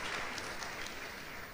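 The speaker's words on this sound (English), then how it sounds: "I think we'll give ourselves a round of applause" Audience applause at a memorial lecture, a dense, steady patter of many hands clapping throughout, moderately loud and unbroken.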